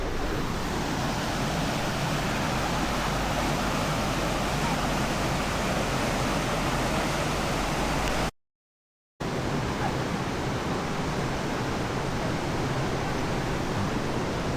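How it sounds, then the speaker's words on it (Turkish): Steady, loud rush of a stream flowing beneath a bridge in Borjomi, Georgia, a broad unbroken wash of water noise that drops out for a moment partway through, then resumes as before. "Derenin üstündeyim şu anda."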